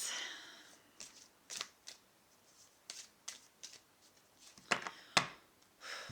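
Tarot cards shuffled close by, soft papery swishes and sharper snaps arriving in scattered short bursts with quiet gaps, faint and unaccompanied by talk.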